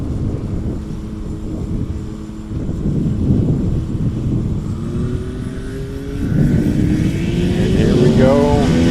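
A STOL bush plane's engine revs up at a Rocky Mountain STOL competition in Pinedale, Wyoming, a loud, steady droning roar that rises in pitch toward the end, with a commentator talking over it.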